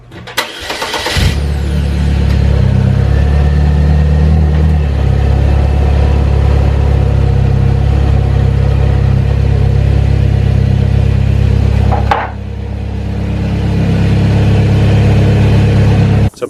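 A Saab 9-3 Arc starts up and revs loudly close by, its engine running at a steady drone as the car drives off a ramp, with a sharp drop in sound near the end before the engine settles again.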